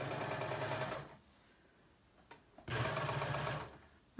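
A serger sewing machine stitches in two steady whirring runs of about a second each, separated by a short quiet pause, close and fairly soft.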